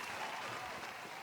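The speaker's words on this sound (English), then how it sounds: "No, that was the applause." Faint, distant applause at a whisky awards celebration comes through as a flat, hissing wash, so uniform it resembles white noise, holding steady without distinct claps.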